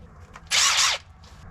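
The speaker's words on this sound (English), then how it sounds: "Power tools." A power drill or driver runs in one short, loud burst while working on a heater core install in a Jeep CJ5, with quieter whirring just before and after.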